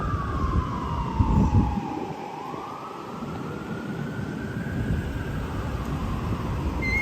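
Wailing ambulance siren on a New York City street near the Manhattan Municipal Building, its tone slowly dipping then rising again above constant traffic rumble, heard from some distance.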